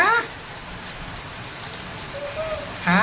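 Heavy rain pours steadily on a farm where cows and buffaloes are kept, a dense even hiss throughout, with brief voices at the start and end.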